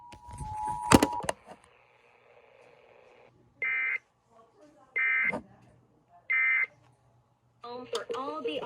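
Emergency Alert System test tones play over the radio: a sharp burst of noise, then a steady drone, followed by three short, loud, evenly spaced tone bursts, ending with a voice speaking.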